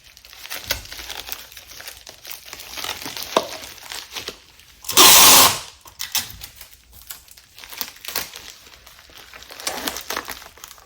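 Folding over a shipping mailer for a music cassette, with soft rustling and crinkling throughout and one loud, close crumpling burst about a second long.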